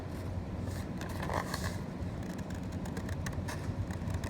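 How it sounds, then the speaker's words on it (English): Steady snipping and rustling of scissors cutting through paper, close by, with continuous soft scraping and faint clicks throughout. "I'm turning the paper, and I'm not really turning the scissors"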